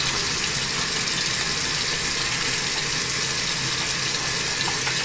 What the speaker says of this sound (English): While washing your hands when you're going to work with your patients, make sure you do it for a good 30 seconds.